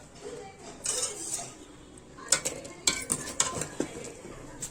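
Moong dal being mashed and stirred into jaggery syrup for payasam, with a metal spoon scraping and clinking against a pot in several sharp knocks, close and moderately loud over a faint simmer.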